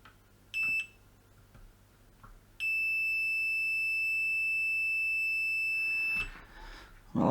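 A digital multimeter in diode check mode beeps twice at close range: a short tone followed by a longer steady beep lasting a few seconds, with quiet background between.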